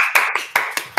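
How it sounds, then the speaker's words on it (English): Applause heard as a few sharp, close hand claps in an uneven rhythm over a steady background hum. "huge applause for you, mate"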